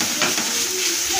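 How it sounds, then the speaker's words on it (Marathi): Onions fry in hot oil in a pan, a close, loud, continuous sizzle with light stirring scrapes over a short stretch. "कांदे तेलामध्ये एकदम मी छान मस्त याप्रमाणे तळून घेत आहे"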